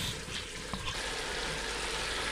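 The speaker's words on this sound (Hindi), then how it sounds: "तो अब फिर दोबारा इनको पकने के लिए रख देते हैं, अच्छी तरह फ्राई होने देते हैं चिकन को भी" Chicken pieces fry in a pan with spices for aloo chicken, giving a steady, dense sizzle with a few soft stirring clinks early on.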